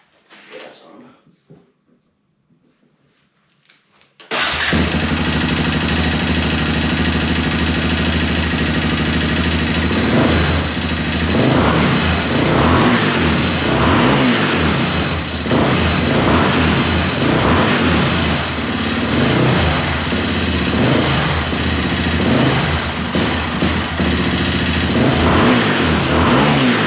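A 2001 Yamaha Raptor 660R ATV in poor condition cranks briefly after a few quiet knocks. Its engine then catches and roars loudly up close, idling rough with repeated throttle blips and revs.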